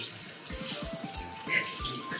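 Tap water runs steadily into a kitchen sink while burdock root is washed, a continuous close splashing hiss with faint knocks and a rising tone underneath.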